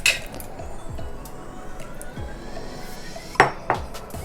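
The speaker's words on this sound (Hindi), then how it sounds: "इस तरह एक जालीदार बर्तन लेंगे और लेकर के इन्हें छान लेंगे" Raw mango pieces, soaked in turmeric and salt water, tipped into a metal mesh strainer for pickle, with metallic clinks and clatter of the vessel and soft wet shuffling of the pieces, close by.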